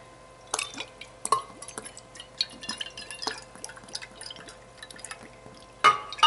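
Balsamic vinegar is poured for a beef jerky marinade, with scattered drips and splashes of liquid into a container, quiet and close, ending in a louder burst of pouring.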